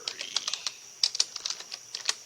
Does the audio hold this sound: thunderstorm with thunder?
no